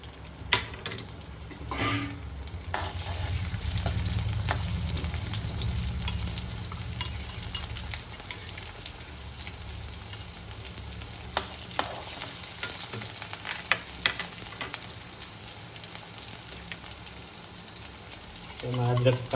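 A ginger, garlic and chili paste fries in a pan for vegetable Hakka noodles, giving a steady close sizzle with frequent stirring and scraping and a few sharp clinks, and no voices are heard over it.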